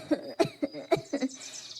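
A character in a Hindi animated cartoon coughs in a quick run of about six sharp, close bursts, slightly raspy, before trailing off.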